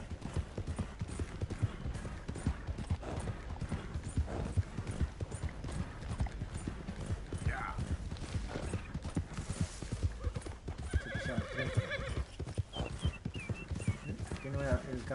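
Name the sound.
horse galloping hooves and neighing, Red Dead Redemption video game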